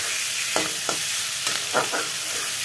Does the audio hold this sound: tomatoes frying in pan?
yes